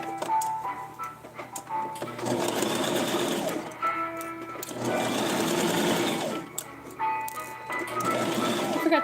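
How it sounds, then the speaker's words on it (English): A sewing machine stitching a doll outfit runs in several close bursts of rapid stitching, whirring loudly for a couple of seconds each, with brief quieter pauses between runs. "Now, back to the sewing machine."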